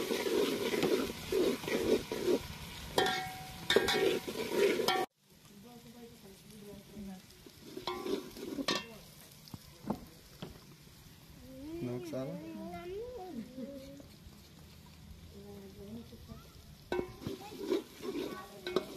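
Ginger, garlic and green chilli frying in a pan for cabbage koftas, a soft sizzle with stirring scrapes, close and moderately quiet, with someone talking over it.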